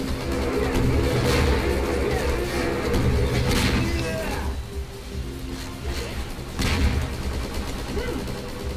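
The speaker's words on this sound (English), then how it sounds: "Oh wait, that turret is attacking me as well." A wall-mounted turret fires in a Garry's Mod horror map. Loud bursts of rapid gunfire repeat in clusters over a constant rumbling game background, with a voice talking at times.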